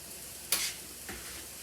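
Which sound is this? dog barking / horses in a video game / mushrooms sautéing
mushrooms sautéing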